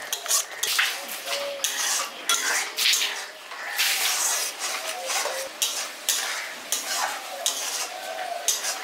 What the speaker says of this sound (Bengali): এবার তেল ছাড়া পর্যন্ত এটা ভালো করে একটু কষিয়ে নিচ্ছি।